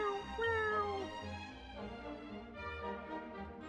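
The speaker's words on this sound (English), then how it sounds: "Kitty!" A cat meows in the video game Dragon Quest VII, a few close, clear mewing calls over quiet game music with no talking.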